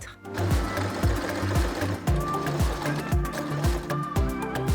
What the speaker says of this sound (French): Il ne nous reste plus qu'à piquer au point droit les côtés à 1 cm.